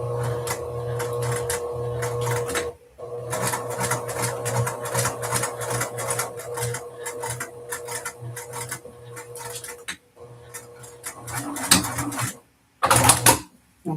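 Sewing machine stitching pockets together at a 1/8 inch seam allowance on a dress, running almost continuously with a steady hum and clatter, brief stops, and some handling clatter toward the end.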